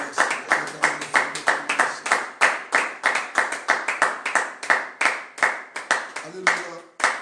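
A church congregation clapping together in a fast, steady rhythm, loud and close, with voices rising underneath the beat throughout.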